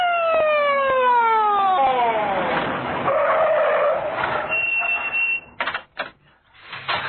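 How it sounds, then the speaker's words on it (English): An emergency ambulance siren wails with falling sweeps, joined by screeching tyres and engine noise, loud and near, then breaking into choppy bursts. "I have called for the emergency medical ambulance."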